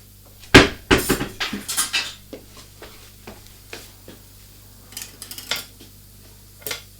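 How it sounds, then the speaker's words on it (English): Rummaging through cutlery in a kitchen drawer hunting for a sharp knife, a loud clatter of metal utensils followed by a run of jingling clinks and taps that fade to scattered rattles, close by and without talk. "I'm looking for my sharp knife"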